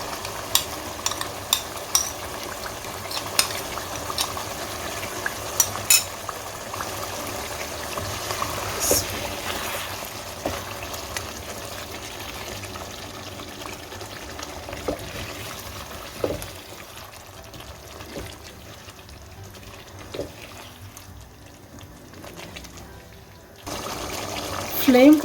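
A cream mixture goes into a chicken karahi, and a long stretch of liquid pouring and stirring follows, with soft sizzling and scraping of a spoon in the pan. Light clinks come and go, and a voice talks over parts of it.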